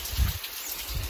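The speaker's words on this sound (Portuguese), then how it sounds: "Tá chovendo muito, gente." Heavy rain pours steadily during a weekend in Jacutinga, a dense, even hiss of falling water with low rumbling gusts, heard alone without voices.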